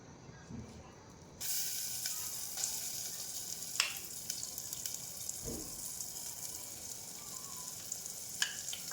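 Ground masala paste drops into hot oil with reddened bay leaf for a village-style chicken curry, bursting into a sudden loud sizzle that settles into continuous close hissing and crackling.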